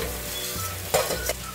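Onion-tomato masala with ground spices sizzling in a pan, a constant close frying hiss with a couple of brief spoon scrapes as it is stirred together, no voices present.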